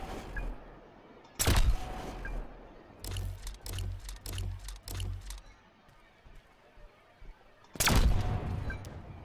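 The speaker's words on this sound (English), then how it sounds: "let's start firing rounds" Gunfire from a weapon in The Signal From Tolva rings out as two loud, sharp isolated shots bracketing a rapid burst of several quicker rounds, each with a heavy low thump and short echoing tail.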